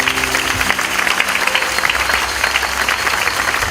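Congregation at a lively church worship service applauding together, a dense, steady wash of many hands clapping throughout, fairly close and loud, with faint music tones underneath and no clear talk.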